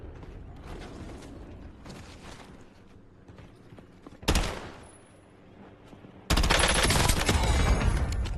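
Gunfire rattles in the shooter game Warzone, scattered shots and mechanical clatter early, a sharp burst midway, then a loud sustained volley toward the end.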